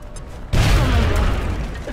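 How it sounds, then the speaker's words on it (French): A single grenade explosion in XCOM: Enemy Unknown, a sudden loud boom after a brief quiet moment, followed by a rumbling decay that fades over the next second and a half. "Lancez une grenade."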